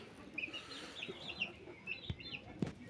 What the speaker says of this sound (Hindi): ये देखो मुर्गियाँ भी रखी हैं